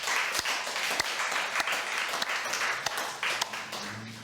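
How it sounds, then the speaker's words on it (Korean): A Korean church congregation breaks into applause giving glory to God, a dense, even patter of many hands with a few sharper claps standing out, fading slightly near the close. "우리 한번 박수에 하나님께 영광이 받습니다."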